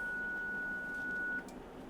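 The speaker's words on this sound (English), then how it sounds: "Let's switch off this annoying beep." A single sustained electronic tone beeps steadily for over a second, then cuts off, leaving low background noise.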